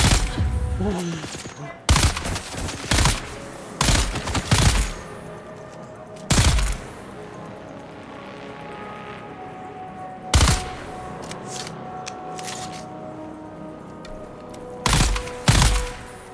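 Gun in the video game Dune Awakening fires in sharp bursts of rapid shots, several separate volleys spaced a few seconds apart, loud and close over quiet background.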